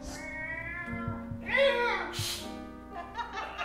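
A cat perched on a trash can full of oatmeal gives a rising, wavering meow, mixed in among people talking in a radio play setting.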